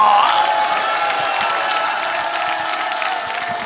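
A crowd gives a standing ovation for a pastor at a large rally, dense sustained applause filling the room loud from the start and easing slightly toward the end.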